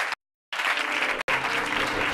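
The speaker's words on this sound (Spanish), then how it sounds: "Un aplauso para él." A theatre audience applauds magician Víctor Cerro at a magic show: loud, dense clapping that stops briefly near the start, then resumes and runs steadily to the end with a tiny break partway.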